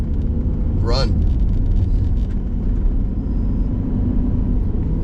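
A BMW E34 with a 3.7L stroker M30 engine drives along, its low steady rumble filling the cabin throughout, with a brief higher chirp near the start and a voice speaking over the engine.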